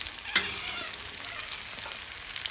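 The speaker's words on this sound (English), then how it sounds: "Give this a nice quick stir." Caramelised onions with bacon and brown sugar sizzle in a pan on a wood stove while being stirred, a soft continuous frying crackle with a brief scrape of the spoon.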